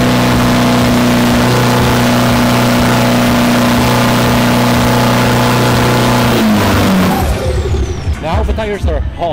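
A racing pickup truck's engine is held at a loud, steady high rev to heat the tires before a drag start in Bangkok, then drops off and sputters as the revs fall away near the end.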